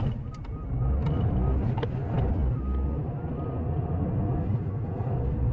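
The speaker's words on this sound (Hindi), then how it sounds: "Let's rev the motor." The 1.0-litre three-cylinder engine of a Škoda Kushaq with manual gearbox is revved to around 3900 rpm, giving a sustained, fairly loud engine drone and rumble heard close up.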